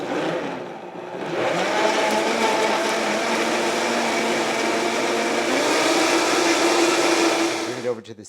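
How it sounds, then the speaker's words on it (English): A blender runs steadily, loud and close, purees a sauce of salt, pepper, oregano and cilantro for huevos rancheros; a continuous whirring motor drone starts about one second in and cuts off near the end. "And we're going to blend this down."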